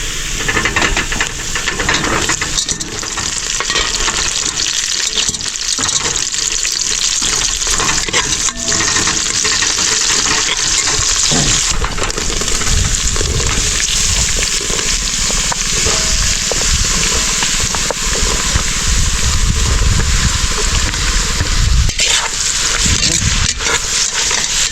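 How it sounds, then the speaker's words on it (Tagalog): Onions frying in a pan, a loud continuous sizzling hiss that holds steady throughout, with people talking underneath. "Isin ko na yung sibuyas."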